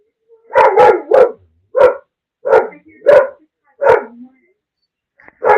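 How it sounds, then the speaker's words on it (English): A dog barks close and loud in a quiet room, about eight sharp, separate barks in an uneven rhythm with short silent gaps between them, no voices over them. "Now I know why the dog's barking."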